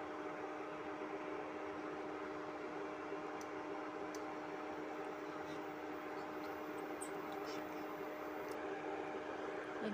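Chirote dough frying in oil over low to medium heat gives a steady, soft, even sizzle that hisses along without a break, with a few faint ticks and pops.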